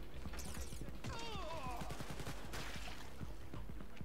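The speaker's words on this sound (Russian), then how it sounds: "Да я тут из чего-то выстрелил, и все взорвалось" Rapid gunfire crackles in Wolfenstein: Youngblood amid a dense, loud battle din, with a rising whistling tone and a broad blast-like rush partway through, under continuous game noise.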